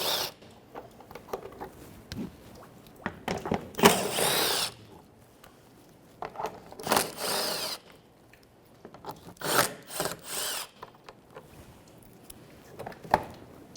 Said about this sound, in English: 10mm socket. I'm going to go across and take all the bolts out.